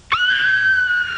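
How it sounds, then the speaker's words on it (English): A performed death scream on a 1990s late-night TV talk show: one sharp, sustained, high-pitched wail that starts abruptly and holds loud for about a second. "Can you give us the death scream just before the watermelon one more time?"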